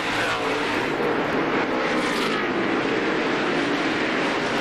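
NASCAR Winston Cup stock cars roar around the Bristol Motor Speedway short track in a continuous dense engine drone, loud and steady with faint swells as the pack passes.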